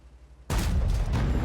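A loud, sudden gunshot in a video game bursts in after a quiet moment and rings on as a dense, sustained blast.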